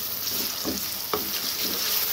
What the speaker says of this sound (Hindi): तकरीबन दो से तीन मिनट के लिए इसको फ्राई करें